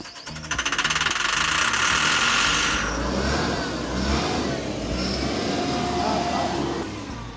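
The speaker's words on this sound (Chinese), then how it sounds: "车是打着了" A vehicle engine fires up after a dose of starting fluid, catching with rapid knocking pulses and then settling into a loud, steady run nearby while someone talks over it.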